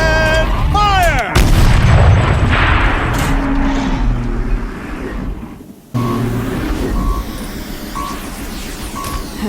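A machine turret fires in Horizon Zero Dawn with loud booming gunfire over whirring mechanical tones, followed by a sharp cutoff and lingering hum with intermittent beeping tones, with no speech.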